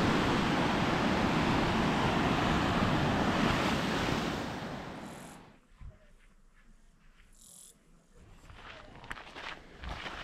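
Ocean surf rolls in loudly at Binalong Bay beach in Tasmania with wind across the microphone, then drops away after about five seconds to quieter outdoor ambience with a few faint bumps and footsteps.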